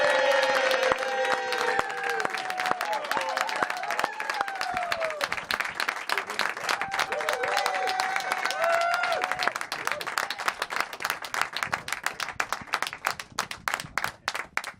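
A studio audience welcomes a guest to a television set with sustained, dense applause and clapping. It stays steady for most of the stretch, then thins into scattered claps near the end.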